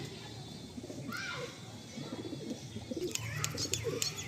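Star Kalanka pigeons in a loft give soft repeated coos close by, with chirps and faint background voices and some rustling, the cooing pulsing irregularly across the whole stretch.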